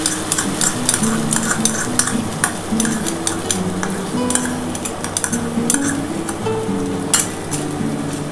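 Three beaten eggs frying in a pan for homemade egg chow mein, a loud close sizzle with steady spatula scraping and clinking against the pan in a regular stirring rhythm, no talking.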